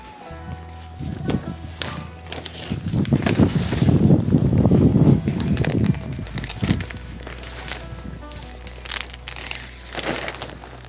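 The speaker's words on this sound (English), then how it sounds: "And of course, I'd pick a day that's windy" Gusty wind blows hard across a campsite beside a Jeep Gladiator with an awning room, a continuous rumbling roar that swells loudest in the middle before easing, with no talk.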